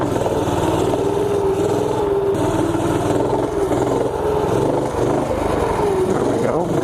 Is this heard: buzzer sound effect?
no